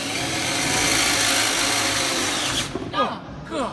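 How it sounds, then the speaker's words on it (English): A power drill whines steadily and loudly while boring into wood during a tiny-home build, then cuts out as voices talk and exclaim nearby. "keep the drill going and pull it out"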